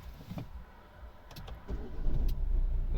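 A 2011 Volvo V60 with a 1.6 D2 diesel engine and manual gearbox starts up. A short crank leads into a low idle rumble that builds and holds steady, close by, with no talking.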